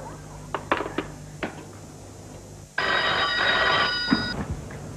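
A few light knocks and clinks, then a telephone bell rings loudly nearby in a single sustained burst of bright metallic ringing for about two seconds before cutting off, with no talking.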